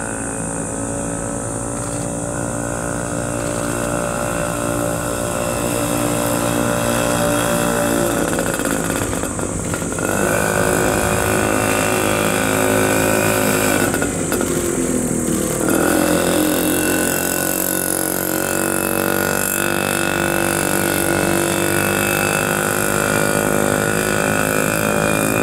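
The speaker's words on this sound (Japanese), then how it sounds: "バタバタとエンジン音聞こえますよね。" The 50cc two-stroke engine of a 1947 Honda Model A motorized bicycle runs loud and close with a rattling, buzzy drone. Its pitch rises and dips slightly a few times and never stops.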